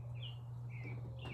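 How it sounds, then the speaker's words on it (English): Birds chirping outside a window, faint and intermittent, with short high calls over a steady low hum indoors. "Birds are incredibly happy, as you will hear out the window."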